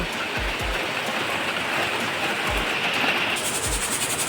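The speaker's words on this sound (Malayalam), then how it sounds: "കൊച്ചു വരാറായപ്പോഴത്തേനും നല്ല മഴയാണ് കേട്ടോ" Heavy rain pours steadily as a dense, loud hiss, with a few low dull thumps underneath and a slight change in tone near the end.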